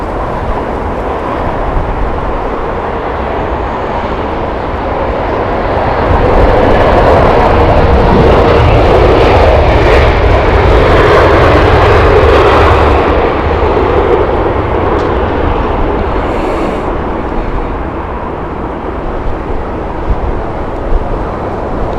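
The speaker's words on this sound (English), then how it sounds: "Turkish Airlines Istanbul flight, Airbus A321neo" A Turkish Airlines Airbus A321neo takes off from Heathrow runway 27 right, its engines giving a loud, sustained roar that swells mid-clip and slowly eases as the jet climbs away, heard without any voices.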